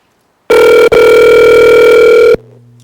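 A telephone rings loudly once for a call-in caller at a municipal assembly meeting, a steady tone broken by a brief gap, then stopping, with faint room noise after.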